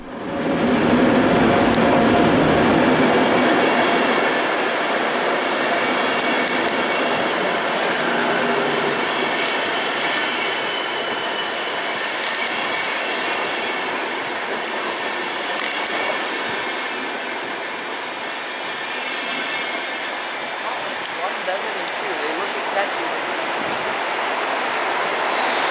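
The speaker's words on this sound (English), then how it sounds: "The final train that we saw arrive at Wien Hauptbahnhof that evening was the Eurocity 107 Sobieski from Gdynia" The Eurocity 107 Sobieski from Gdynia rolls into Wien Hauptbahnhof, a steady broad rumble of railcars under a station roof, with faint wheel squeal and clicking joints as the sound slowly eases toward a stop.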